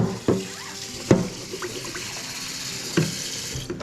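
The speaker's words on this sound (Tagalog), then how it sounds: "lagyan mo lang ng tubig." Water runs from a tap into a cooking pot, a steady hiss of filling broken by a few knocks and clanks of the pot against the sink.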